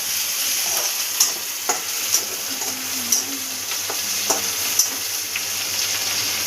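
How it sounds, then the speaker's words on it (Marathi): Tomato fries in hot oil with a constant close hiss and crackle, while a spoon stirs and taps against the pan every second or so. "तो टोमॅटो पण छानपैकी आपल्याला तेलामध्ये भाजून घ्यायचा आहे."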